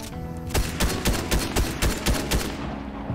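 Enemy gunfire in the Fortnite video game, a rapid series of about eight sharp, evenly spaced shots, loud and close, ending in a short fade.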